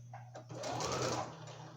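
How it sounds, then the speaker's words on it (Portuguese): A sewing machine runs a short reverse stitch while stitching a fabric booklet cover, its motor whirring up to a steady close hum for about a second before slowing. "Eu vou iniciar com o retrocesso"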